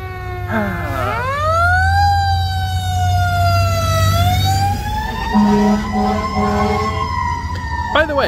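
Loud street traffic with a fire engine siren wailing nearby, its pitch sweeping up and down over a rumbling engine and passing vehicles, with a short horn blast near the end.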